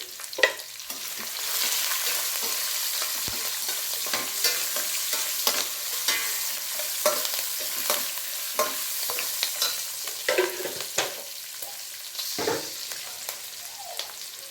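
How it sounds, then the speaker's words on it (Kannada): Chana dal and urad dal fry in hot oil for a lemon rice tempering, giving a steady close sizzle broken by repeated scraping clicks of a stirring spoon, with no voices. "ಎಣ್ಣೆಯಲ್ಲಿ ಕಡಲೆಬೇಳೆ, ಉದ್ದಿನಬೇಳೆ ಎಲ್ಲ ಫ್ರೈ ಆಗ್ತಾ ಇರುತ್ತೆ"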